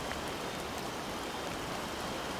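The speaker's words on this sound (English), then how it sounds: "It is still raining too heavily." Heavy rain pours steadily in the Mystery of Neuschwanstein video game, a dense, even hiss of falling water at low level with no talk over it.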